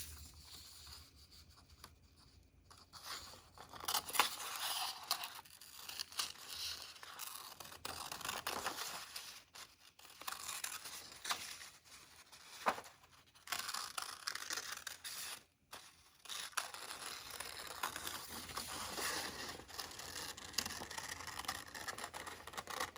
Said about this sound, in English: I'm going to cut this heart shape